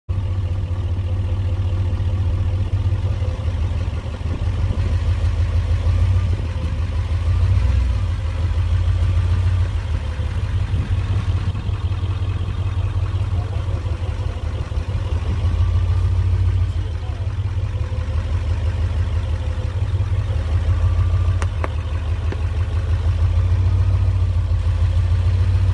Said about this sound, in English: We're gonna use one of our 3500 HD with the Duramax